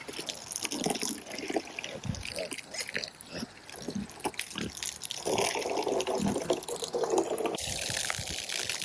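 Water splashes and trickles steadily as it is poured out for farm animals, with brief clattering and background noise throughout.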